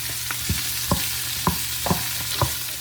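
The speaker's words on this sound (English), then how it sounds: "we're ready to saute our shrimp and sausage and some olive oil" Shrimp and sausage sautéing together in olive oil for Spanish rice paella, a steady sizzle broken by about six scraping stirs of the pan at fairly even intervals.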